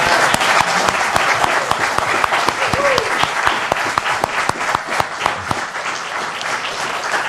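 A room applauding a panel at a White House press briefing, a close, sustained burst of clapping with distinct sharp individual claps over a dense crowd wash, tapering near the end.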